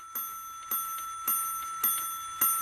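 A clock chimes twelve o'clock in a cartoon, with five evenly spaced bright metallic bell strikes about half a second apart, each ringing on and decaying, clear and alone.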